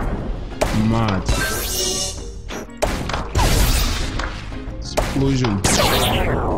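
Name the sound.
explosion in the video game Zuma Revenge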